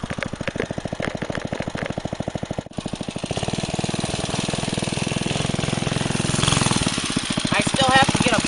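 A minibike's new small engine runs close by with a fast, rapid-fire chugging pulse. It cuts out briefly, then picks up and revs a little higher as the ride goes on.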